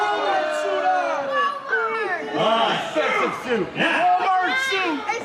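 A wrestling crowd at a New York Championship Wrestling show jeers a wrestler, with loud overlapping shouts, chants and bellows filling the arena throughout.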